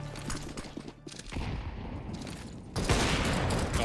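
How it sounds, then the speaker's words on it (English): Auto sniper rifle gunfire in a Counter-Strike esports match with FaZe playing, heard as rapid gunshot bursts mixed into game noise, growing louder and denser near the end. "Oh no, auto snipers for FaZe."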